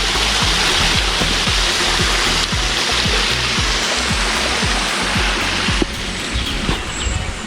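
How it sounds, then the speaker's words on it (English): A clear stream flows steadily beside a walking path, a loud, continuous rushing and babbling of water close by with no pauses. "a beautiful walk up by the side of the stream here"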